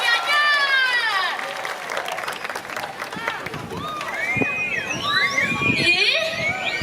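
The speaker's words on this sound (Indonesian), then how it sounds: "Tepuk tangan untuk anak-anak Kabupaten Gianyar." An audience claps and cheers for a children's dance performance, scattered applause mixed with crowd noise, children's voices and shrill calls, with people talking over it.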